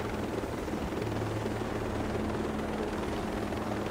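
A helicopter in the Ghost Recon Breakpoint video game, a steady dense rotor and engine roar that holds constant and loud throughout with no talk.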